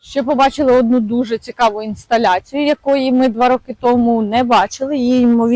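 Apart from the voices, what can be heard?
No everyday noises stand out.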